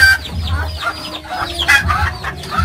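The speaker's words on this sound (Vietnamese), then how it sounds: "Nhà của Út nuôi gà vịt quá trời luôn nè." Chickens cluck in a farmyard shared with ducks, with several close, overlapping clucks and squawks coming in quick bursts.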